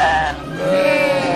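A goat bleats loudly and close, two wavering cries in quick succession with a brief dip between them.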